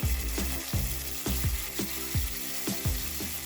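Whole spices and cumin paste sizzle in a pan on a low flame for a Bengali-style Chitol fish curry, a steady frying hiss broken by regular stirring scrapes, close and continuous.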